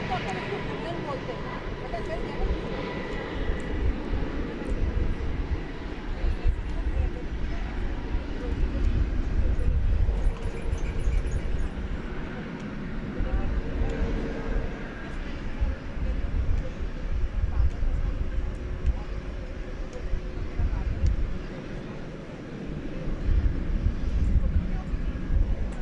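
MD-11 airliner beginning its takeoff roll at DFW Airport at night, a broad, distant rumbling engine roar that swells and holds throughout, with voices talking over it.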